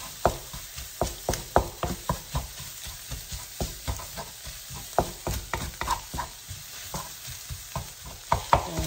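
Vegetables and garlic are stir-fried in a pan for Indonesian mie goreng, with a soft sizzle punctuated by rhythmic, fairly quick clacks and scrapes of a utensil tossing the food, close by and moderately quiet.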